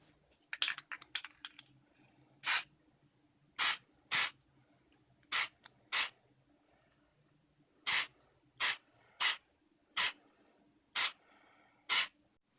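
High gloss lacquer sprayed from an aerosol can onto a cosplay ring, a quick flurry of short bursts followed by about ten evenly spaced, sharp hissing sprays, close and fairly quiet with no talk.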